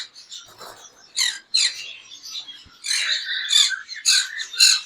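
A pair of ringneck parakeets squawk repeatedly at close range, harsh bursts coming in uneven clusters with brief pauses, louder in the second half, with no talking.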